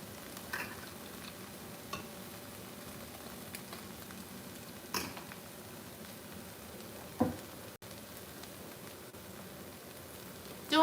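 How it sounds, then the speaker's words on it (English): Skillet potatoes seasoned with garlic powder, onion powder, black pepper and seasoning salt fry in a pan, giving a soft, steady sizzle with occasional scrapes and taps of stirring. "Doing some skillet potatoes"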